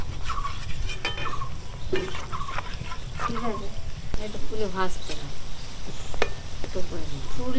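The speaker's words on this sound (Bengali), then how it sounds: "ফুললি ভাজা হচ্ছে আমাদের" Fuluri gram-flour fritters deep-fry in oil over a medium flame, a continuous bubbling sizzle sitting under a voice talking for most of the stretch.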